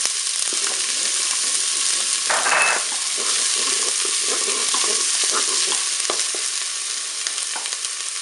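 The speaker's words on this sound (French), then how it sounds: "Mon huile est chaude. Je vais pouvoir mettre mes morceaux de viande." Pieces of meat hitting preheated oil in a Cookeo multicooker, a loud bright sizzle that holds steady with scattered crackles and a brief louder burst near the start of the searing.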